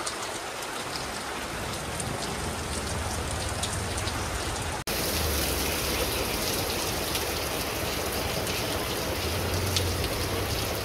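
Steady rain falls in Pune, a dense, loud hiss of drops hitting surfaces that runs the whole clip, broken only by a brief cut partway through, with no talking.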